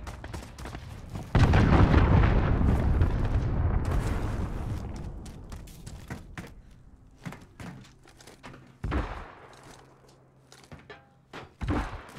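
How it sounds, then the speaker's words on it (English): A cruise missile blast in a Call of Duty-style Search and Destroy match hits as a loud, deep boom that rolls and fades over several seconds, followed by scattered thuds and sharper impacts, with no talk. "Allied cruise missile launched."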